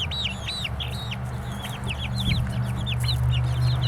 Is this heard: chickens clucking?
yes